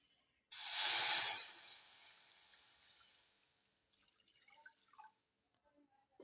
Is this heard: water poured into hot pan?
yes